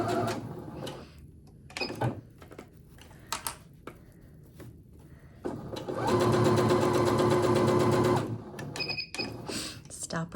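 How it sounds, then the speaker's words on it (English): A sewing machine stitches a fabric coffee sleeve, backstitching at the seam start: short bursts of rapid mechanical whirring, then a sustained run of a couple of seconds, close and clear, with pauses between bursts. "And you want to backstitch at the beginning of your seam."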